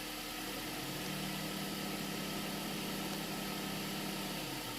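A 2007 Honda Accord 2.4 engine idling steadily after an exhaust donut gasket replacement, with a low, even hum and slight vibration, running alone without any voices.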